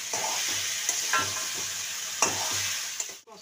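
Turmeric and other ground spices sautéing in a pan with a little water hiss steadily while a spoon stirs them in soft, regular scraping strokes, close and without talk.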